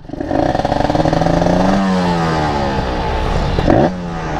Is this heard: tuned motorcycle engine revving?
yes